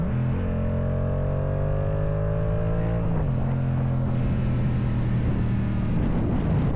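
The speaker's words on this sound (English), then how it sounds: "it doesn't have that high-pitched 4-cylinder scream into it" A two-cylinder Yamaha R7 motorcycle engine drones loud and close, its steady note shifting pitch as it revs and changes gear, with heavy wind rush throughout.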